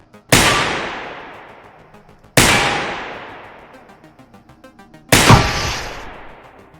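Three loud, sharp gunshots spaced roughly two to three seconds apart in the video game Receiver 2, each followed by a long decaying echo and tail.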